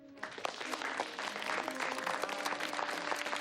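Applause from an audience in a movie scene, honoring Mrs. Somerville, a CIA covert operations officer; dense steady clapping builds and holds for a few seconds, with a faint tonal hum running underneath.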